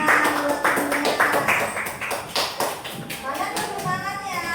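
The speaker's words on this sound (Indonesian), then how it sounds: "Ya, boleh tepuk tangan buat temennya." A group of children clap for their classmates in a classroom, a run of rhythmic, fairly close hand claps mixed with chatter and a teacher's voice talking over them.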